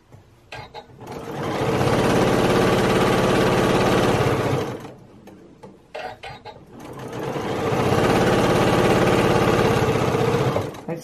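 A sewing machine stitches a fabric face mask seam in two long, steady runs of fast, close mechanical whirring. A short pause with light handling noises separates the runs.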